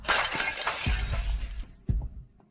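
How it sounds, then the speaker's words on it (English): An ancestral memorial plaque shatters with a sharp crash and a spray of breaking pieces, followed by a second smaller crack and scattered tinkling fragments, close and loud. "How did it shatter all of a sudden?"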